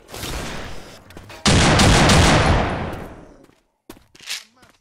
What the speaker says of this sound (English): What is up with you shooting me?